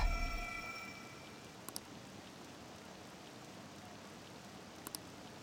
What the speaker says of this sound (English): This rain ain't too bad.